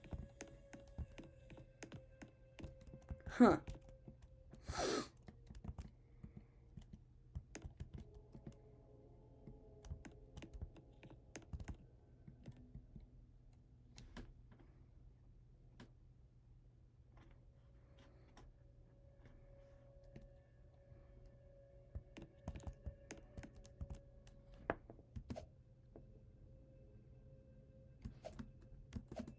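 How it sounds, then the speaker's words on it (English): Computer keyboard arrow keys tapped while playing a game, scattered quiet clicks and taps spread over a low steady hum, with a few sharper knocks and a brief murmur from a voice. "I can use the arrow keys instead of my mouse"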